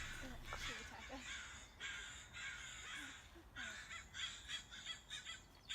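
Crows caw in short harsh calls, several scattered across the stretch at moderate distance, over a steady outdoor background hiss.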